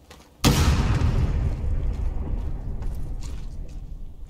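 A Civil War artillery cannon in the game War of Rights fires a shell with one sudden loud boom, followed by a long rumbling tail that fades slowly over several seconds.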